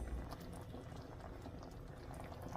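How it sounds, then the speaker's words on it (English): Chipotle cream sauce simmers gently in a pan with rolled chicken tacos added, giving soft continuous bubbling and faint popping, quiet and close with no talk. "It's creamy, it's gently simmering."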